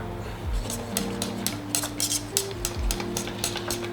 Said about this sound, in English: Okay, whisk that in.